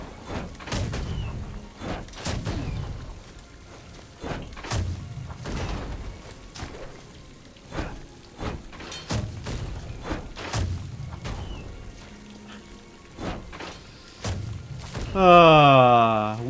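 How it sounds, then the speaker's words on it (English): Cannons firing in the video game Rogue Legacy 2, heard as repeated dull booming thuds at irregular intervals, mixed with other game sounds and someone talking over them. "We got cannons."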